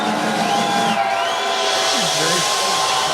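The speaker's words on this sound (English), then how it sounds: "Crowd goes wild." A crowd cheers wildly in a dense, continuous roar of shouts and whoops that stays loud throughout.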